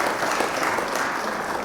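Dense, steady applause fills the whole moment, many hands clapping loudly and evenly without a break.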